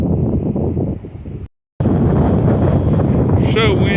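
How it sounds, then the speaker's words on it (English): Strong, gusty wind buffeting the microphone on a beach at sunset on a warm evening, a loud, continuous rumbling roar broken by one short gap, with faint whistling tones near the end. "This wind is hitting me hard."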